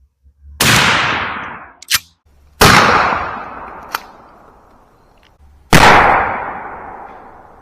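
12 gauge shotgun firing Rio #00 buckshot, three loud, close blasts a couple of seconds apart, each with a long decaying echo and a sharp metallic click between shots, no talk.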